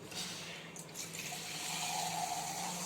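Food is rinsed under running tap water in a home kitchen while cooking mango vathal kuzhambu, a steady close hiss of flowing water with light splashes and drips throughout.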